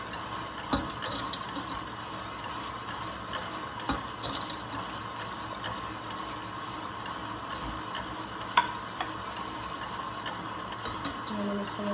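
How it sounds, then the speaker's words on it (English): A spoon scrapes and taps repeatedly against a pot as thick hot chocolate cream pie filling is stirred off the heat after boiling, with a faint sizzle underneath. "we shut our stove off and give it a good mix"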